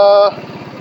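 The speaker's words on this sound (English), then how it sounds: "Throttle's very responsive, engine sounds good." Engine of a side-by-side UTV running and responding to throttle, a steady loud tonal drone that cuts off sharply after about a third of a second, leaving a lower rhythmic idle pulsing on alone.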